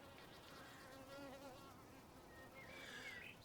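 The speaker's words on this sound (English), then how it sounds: "Bees having a drink around the edge," Honeybees drinking at the edge of a pond buzz softly around the microphone, several wavering drones rising and fading as individual bees pass close, over a faint outdoor background.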